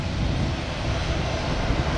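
A jet airliner taking off at an airport, its engines giving a steady, loud broadband roar that holds without a break, heard close and alone with no talking.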